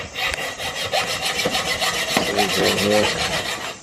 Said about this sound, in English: just going through now with the hacksaw, cutting a few sections in the metal sleeve